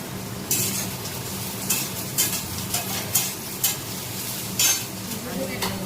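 Potatoes and onions fry in a pan with a constant sizzling hiss, punctuated every second or so by sharp scraping stirs of a utensil against the metal.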